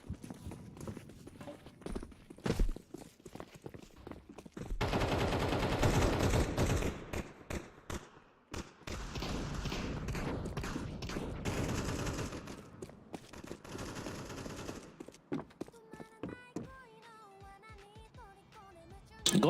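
Pistol gunfire in a video game: dense clusters of sharp shots and impacts with footstep-like clatter across the span, then a quieter stretch with tonal game sounds near the end.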